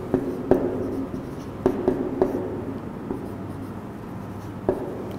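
A pen writes out a fraction addition exercise on paper, close and steady, with soft scratching strokes and a few sharper taps as it meets the page, heard alone without talking.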